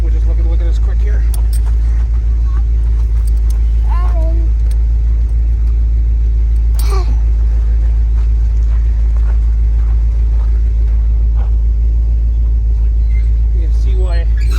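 An International Harvester 1800 Loadstar truck engine idles as it warms up, a steady low rumble running through the whole stretch, with people talking and small clinks and handling noises nearby.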